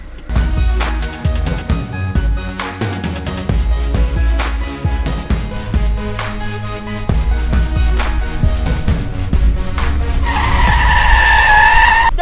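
Loud engine roar as a car drives hard, ending in a sharp, squealing skid of tires.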